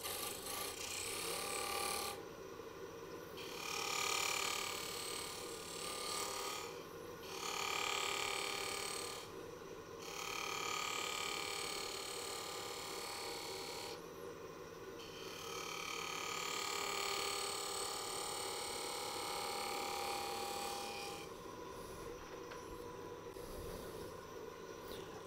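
A wood lathe spins a lidded wooden box while the bottom is shaped. The steady motor hum runs throughout, and the scraping of the cutting tool rises and falls in several long passes, all close up.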